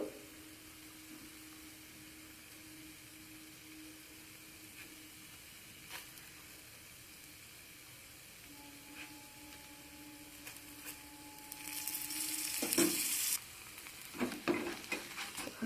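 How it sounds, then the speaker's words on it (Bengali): A vegetable paratha fries in a pan with a low, steady sizzle that swells into a louder, hissing burst near the end, followed by a few scattered crackles. No one speaks. "ওই একইভাবে ভেজে নেব"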